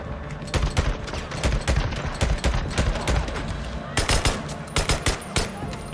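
Gunfire in the zombie game Days Gone cracks out in bursts of rapid, close shots with brief pauses between volleys, loud and punchy, while voices talk now and then.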